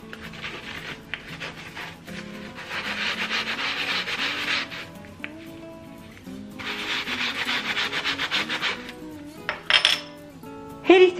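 Scrubbing black glass stove parts with a sponge, two long stretches of steady rough rubbing broken by quieter pauses and a few knocks of the parts near the end, close and alone without talk.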